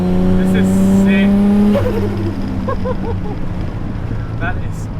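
A big-turbo Nissan 300ZX with an RB engine swap revs hard, a loud, steady engine drone that climbs and then drops in pitch, heard up close over wind noise with no talk.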